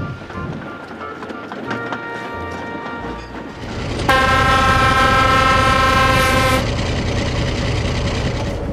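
A steam train engine in the Trainz video game sounds a loud, sustained whistle as it departs, set over a steady rumble of rail noise, with a voice speaking faintly nearby.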